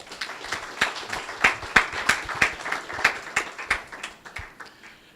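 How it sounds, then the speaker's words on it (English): An audience claps in applause at an energy efficiency policy dialogue on smart buildings in Nigeria, a dense run of hand claps rising and tapering over several seconds, with no talk over it. "A round of applause for Ene."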